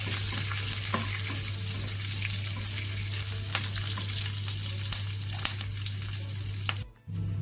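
Curry leaves crackle in hot oil as a tempering for a chutney served with ragi and green gram dosa, a loud, steady sizzle with faint clicks that cuts off abruptly near the end, with no talking.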